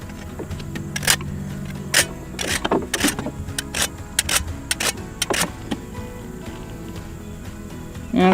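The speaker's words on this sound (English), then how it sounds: "with all this grinding and filing and trimming and clipping, we want to make sure that both feet are filed down to the same level" A power grinder and file work on a goat's hooves during trimming, giving a steady motor hum broken by repeated sharp scraping and clattering bursts, close and fairly loud.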